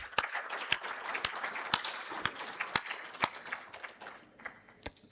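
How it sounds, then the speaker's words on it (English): Audience applause for panelists at a health integration summit, a steady wash of clapping with sharp individual claps standing out rhythmically near the front. "A round of applause from my panelists."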